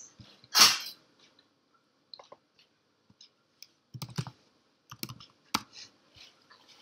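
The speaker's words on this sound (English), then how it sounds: "Type these commands to run it." Commands typed on a computer keyboard to run a Grails application, heard as sparse, quiet clicks and key taps in short irregular bursts with pauses, plus one louder rustling thump near the start.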